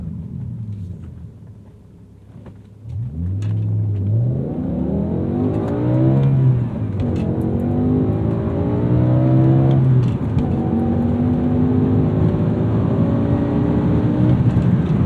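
A manual 2008 BMW M5 E60 with a toggleable exhaust valve accelerates hard from near idle, its engine climbing through several gears with rising howls and brief dips at shifts, loud and continuous, with no voices.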